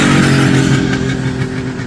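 A 1969 Kawasaki Mach III 500 (H1) two-stroke triple motorcycle engine runs with a raspy, buzzing revving note, loud and close, steady throughout.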